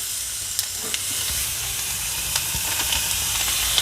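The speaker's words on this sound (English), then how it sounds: "the next step is we're going to take this BlackForest ham. I got my skillet nice and hot" Black Forest ham sizzling in a hot skillet, a constant high frying hiss with scattered small pops and crackles, close and steady, without speech.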